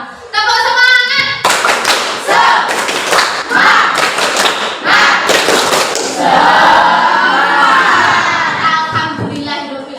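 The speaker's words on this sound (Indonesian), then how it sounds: "Kita tepuk semangat bersama-sama." Students join in a tepuk semangat spirit clap, sharp rhythmic hand claps and thumps in quick patterned bursts with shouted chanting voices, loud and close in a classroom.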